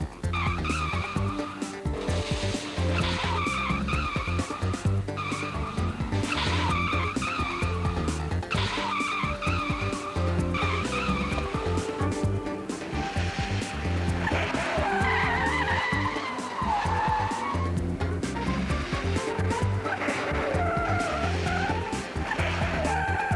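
A car skids as the brakes lock its wheels, a loud sustained tire squeal with engine and road noise, continuous and close, with no talking.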